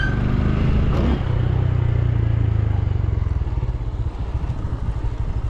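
A Honda Grom motorcycle engine revs and holds a steady, buzzy drone while the rider works the clutch in second gear, loud and close, then dips and pulses as the throttle changes.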